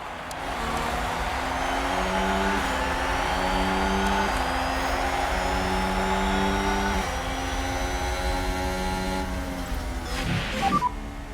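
F1 race cars leaving the grid at the Spanish Grand Prix in F1 Manager 2022, a loud sustained chorus of engines rising in pitch through gear changes, several cars revving together up close.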